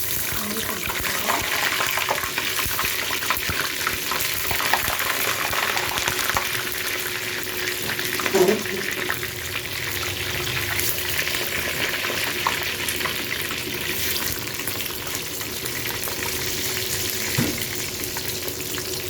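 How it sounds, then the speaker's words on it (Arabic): Large pieces of eggplant fry in hot oil with a steady, loud sizzle and crackle, close up, with a brief stir or clink partway through. "لغايه بقى لما يتقلي نطلعه مع بعض"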